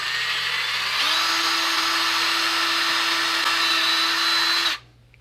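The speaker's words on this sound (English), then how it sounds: "I'm going to drill at a slight angle here" A power drill with a 1/8 bit bores at a slight angle into a soft plastic GoPro frame, whining steadily and close for about four seconds before it cuts off abruptly, with no talk.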